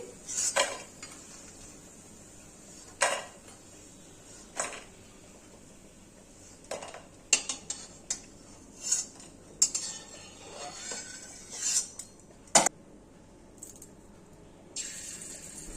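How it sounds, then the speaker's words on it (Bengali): Metal utensil clinks and scrapes against a pan while lifting fried fritters of potato, pumpkin, bottle gourd and chana dal batter from hot oil, in scattered close sharp knocks over a faint sizzle. "এবার আমি বড়াগুলো সুন্দর করে তুলে নিচ্ছি।"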